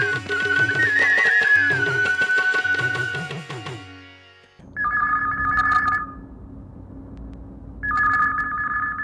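A telephone rings in a radio phone-in studio: a warbling electronic ring sounds loudly over music at first, then two separate bursts of the ringing tone follow alone after the music stops.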